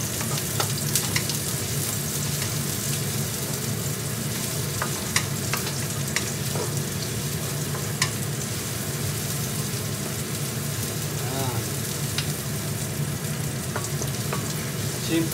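Onions fry in a pan for vegetable lumpia filling with a steady close sizzle, broken by scattered pops and crackles and a few light scrapes, and no voices over it.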